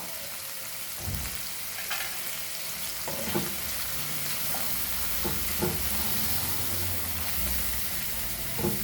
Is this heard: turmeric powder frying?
yes